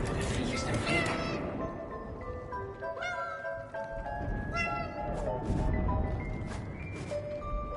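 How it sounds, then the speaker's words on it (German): A cat meows repeatedly in the war video game 11-11 Memories Retold, its rising and falling cries sitting over a busy, constant game soundscape with faint voices underneath. "Ist das eine Katze?"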